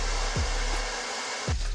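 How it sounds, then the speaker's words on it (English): A hair dryer on its low setting blows a steady, broad airy whoosh on someone's hair, holding evenly throughout with a couple of brief low thumps from handling. "I decided to use a blow dryer on low for just a few minutes"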